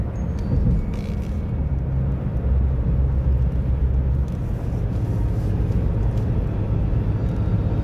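A car cruising at speed on a new, smooth Doha highway, with a steady low rumble of engine and road noise throughout, loud and continuous with no talk.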